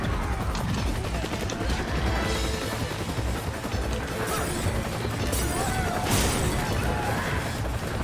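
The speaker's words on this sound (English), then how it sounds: "I can hear gunfire." Gunfire and crashing effects in a co-op Mercenaries match in Resident Evil 5, set in a prison, form a dense, continuous clatter of shots and impacts with a few sharper bursts near the end.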